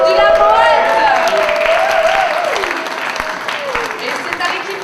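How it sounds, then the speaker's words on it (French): An audience at a slam poetry contest claps for a poet, applause running under a person speaking through most of the stretch and thinning out toward the end. "On applaudit la poète."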